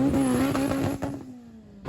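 A 1200HP drag car launches at a Ten Of The Best race event, its loud engine holding a steady high drone that slides slightly lower and fades over under two seconds.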